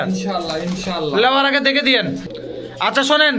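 Pigeons at a pigeon market coo close by in short throaty phrases, mostly under someone talking loudly nearby.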